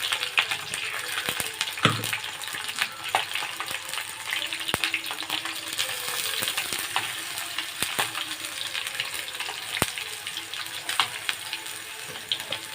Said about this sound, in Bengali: আমি যেহেতু রোল বানাবো তো আমি কষা করছি না, একটু ভাজা ভাজা মতন করব, তার জন্য আমি লঙ্কা আর আদা দিয়েছি